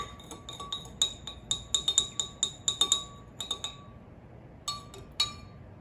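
A spoon stirs baking soda into a cup of cabbage juice, clinking sharply against the glass in quick bursts of repeated taps, then a brief pause before a few final clinks.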